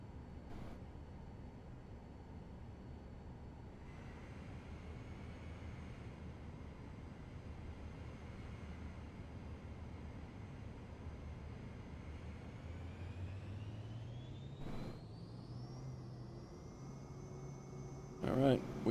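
An aircraft taking off in Microsoft Flight Simulator 2020, a steady engine drone that builds and rises in pitch toward the end, fairly quiet throughout.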